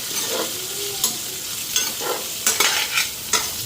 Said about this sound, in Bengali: এদিকে মশলা ভাজা হয়ে গেছে